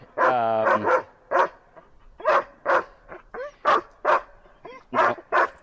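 A reactive dog on an e-collar training walk gives a run of sharp barks and whimpering yips in bursts, loud and close, with a long whining cry at the start and no talk over it.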